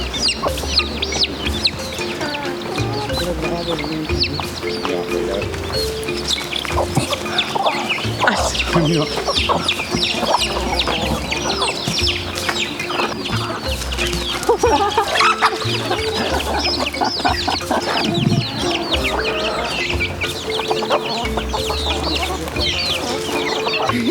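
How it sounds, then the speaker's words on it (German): Hen clucking among her chicks in a free-roaming flock on São Miguel in the Azores, with steady close clucks, scattered peeps and bird chirps throughout, and occasional voices. "da sind sogar Küken dabei. Die sind unter der Mama-Henne. Viele kleine Hühner."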